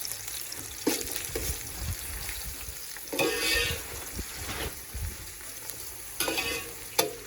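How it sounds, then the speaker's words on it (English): Onions sautéing in a pan for a South African beef curry, a steady close sizzle broken by several bursts of stirring and spoon scrapes at uneven intervals. "And let that saute for a while."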